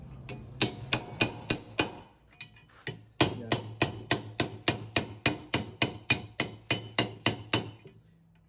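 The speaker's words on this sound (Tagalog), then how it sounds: "Dito ko pinupukpok." Steady metallic hammer blows ring out close by as a brass sheet is hammered, a few spaced strikes then a long even run of rapid hits, with a brief word spoken near the start.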